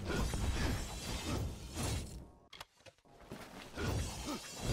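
A wooden barrel smashes in Kingdoms of Amalur with one brief, sharp shattering crack that stands out in a short lull between stretches of busy, rumbling game noise.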